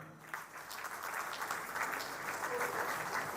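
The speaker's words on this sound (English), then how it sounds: "Please give a huge round of applause, everybody." Faint, distant applause from an audience at an industry roadshow on coal and lignite gasification in Mumbai, a steady wash of many hands clapping after an address, quiet throughout.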